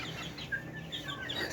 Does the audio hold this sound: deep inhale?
no